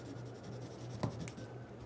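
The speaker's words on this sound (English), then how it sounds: "Here's another little crayon, and it's a Neo color, so it's really good to use these with water." Neocolor wax crayon scribbling across collage paper in an art studio, a soft continuous rubbing scratch with one brief louder stroke midway, close and fairly quiet, no voices.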